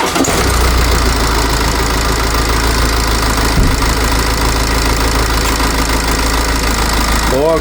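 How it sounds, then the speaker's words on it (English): A BMW X5 F15 engine with a boost pressure fault rumbles at a steady idle, close and loud, with a low throbbing drone and a brief knock midway. "I'm going to start the engine"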